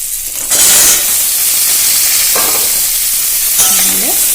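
Vegetables and papaya frying in a pan for a Bengali dal shukto, giving a loud, steady sizzle throughout with stirring scrapes, a burst as more goes into the hot oil, and brief clinks near the end.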